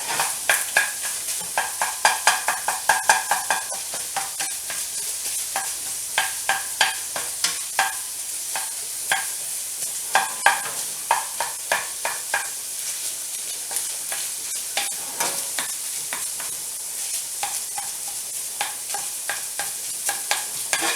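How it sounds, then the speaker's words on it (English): Sausage sizzles in a pan on medium heat, a steady bright frying hiss broken by rhythmic scrapes and clacks of a utensil stirring and browning the meat, close and clear with no voices. "Sausage is cooking pretty quick. I've got it down on medium."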